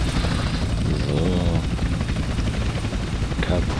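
A helicopter in the video game GTA San Andreas gives a constant loud rotor roar and engine drone across the whole stretch, with a voice talking over it.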